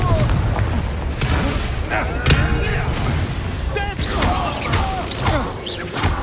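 A Confringo fire curse blasts off in Hogwarts Legacy, a sharp burst with a crackling whoosh amid a busy combat mix of impacts and magical effects, with game voices speaking over the din.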